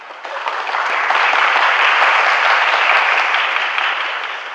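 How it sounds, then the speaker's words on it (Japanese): A conference audience at builderscon tokyo 2017 breaks into sustained, dense applause for a talk, swelling quickly and holding loud and even before tapering slightly. "拍手あると思ってなかったです"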